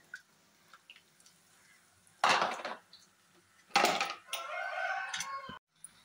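Eggs dropped one at a time into a cooking pot for garlic egg masala, giving two loud, brief splashing impacts a second apart, followed by a steady sizzle, with faint kitchen clatter around them.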